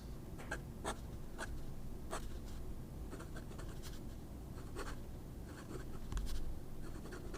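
Stiff fountain pen nib scratching across paper, a continuous close rasp broken by short stroke bursts, with light feedback through the writing.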